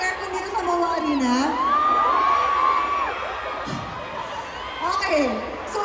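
A large crowd at Lee Min-ho's fan meeting in MOA Arena, Manila, screams and cheers loudly and continuously, with shrill rising whoops and voices layered throughout and swelling again near the end.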